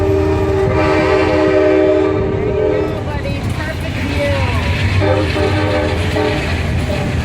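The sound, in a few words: Amtrak Downeaster passenger train passing, sounding horn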